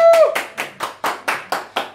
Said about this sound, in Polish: Powitajcie Pawła, brawa!